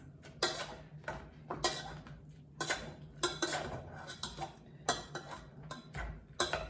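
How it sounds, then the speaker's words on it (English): Peruvian beans mashed with a potato or bean masher in a pot, a series of irregular knocking and clinking strikes, each followed by brief squishy scraping, fairly quiet and close. "I'm going to take the potato or bean masher."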